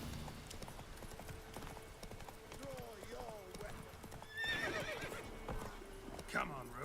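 Roach, a horse in The Witcher 3, trots with steady clip-clop hooves and lets out a high neigh and a later whinny, with a voice speaking over the in-game sounds.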